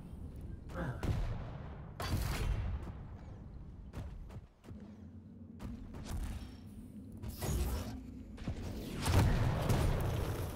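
Rocket launcher blasts and explosions in a Quake 1v1 world championship qualifier match, several sharp booms spaced apart amid mechanical clanks, with a commentator talking over the action.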